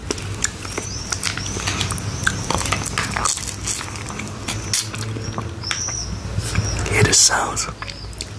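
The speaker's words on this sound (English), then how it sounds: "Sound of the birds." Birds chirp in short, bright calls scattered over a steady background patter, with soft close-up mouth and handling noises at an outdoor spot.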